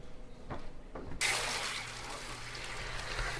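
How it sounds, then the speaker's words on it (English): Tap water runs at a kitchen sink over tomatoes in a colander, starting with a few soft knocks and then settling into a steady, broad splashing rush that keeps going to the end. "I'll take them over to the sink and give them a nice rinse"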